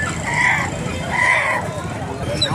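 An aggressive country rooster at a native chicken market in Eluru crows twice in drawn-out calls, fairly close, over a low murmur of market noise.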